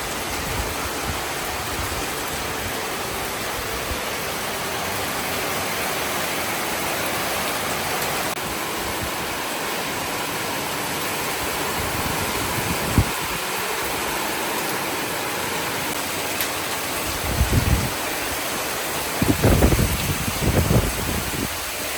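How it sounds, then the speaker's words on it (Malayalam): Heavy rain pours outside a home in a steady, dense wash that continues throughout, with a few brief knocks and clatters near the end. "മഴ എന്നൊക്കെ പറഞ്ഞിട്ടുണ്ടെങ്കിൽ അതാണ് മഴ. നോക്ക് പുറത്ത് നോക്ക്."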